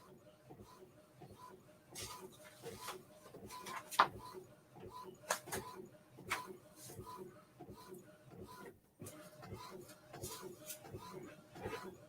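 An Epson EcoTank ET-2720 printer prints a photo, giving soft repeated mechanical whirs and clicking carriage passes in a rhythmic pattern, fairly quiet, with a voice talking at times.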